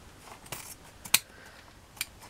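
Scissors cut a length of ribbon for a bow, giving a few sharp, crisp snips at close range, spaced irregularly over about two seconds in a quiet room.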